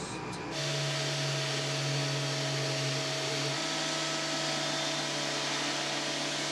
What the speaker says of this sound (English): we want to just give it a light sanding to key the surface for secondary bonding